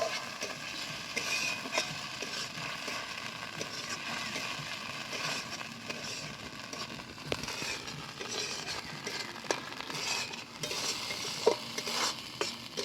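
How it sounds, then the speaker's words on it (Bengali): Cashew and melon seed paste masala for a katla fish malai curry frying and being stirred in a pan, a steady close sizzle with scraping strokes throughout, no talk. "ভালো করে মশলাটা আমি এবার কষে নেব"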